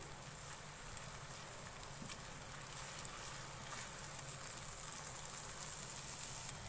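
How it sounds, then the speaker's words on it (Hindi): Garlic ginger paste and onions fry in a pan for chicken tikka karahi, making a quiet, even sizzle with occasional faint pops and no voices. "1 मिनट के लिए लहसुन अदरक को प्याज के साथ फ्राई करेंगे"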